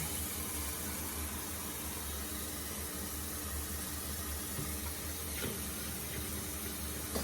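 Distilled water poured into a canning pan in a kitchen, a continuous hissing, running-water sound with faint clinks near the end, heard alone without talk.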